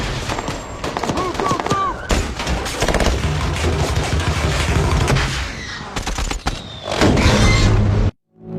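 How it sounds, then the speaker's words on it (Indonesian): Heavy gunfire in a firefight from the film 13 Hours: dense rapid bursts of automatic shots and sharp cracks, loud and close, mixed with shouting voices and a brief drop to near silence near the end. "Tiba-tiba datang kelompok lain tak dikenal menembaki anggota 70 Feb. Jack dan anggotanya pun terlibat baku tembak dengan kelompok tersebut."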